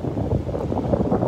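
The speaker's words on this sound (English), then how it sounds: "Breezy out here, the wind's picking up, coming out of the port." Gusty wind buffets the microphone on a breezy Gulf beach at Delnor-Wiggins Pass, a continuous low roaring rush with no speech.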